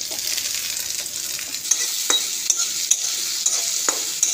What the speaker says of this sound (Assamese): এতিয়া দিম বিলাহীখিনি কাটি লোৱা